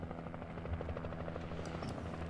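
A helicopter in the Alan Wake video game, a steady droning rotor hum with a continuous low buzz, fairly faint and unbroken for the whole moment.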